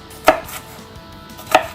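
Two sharp knife chops strike a cutting board about a second apart, dicing bell peppers, close and crisp against a quiet background.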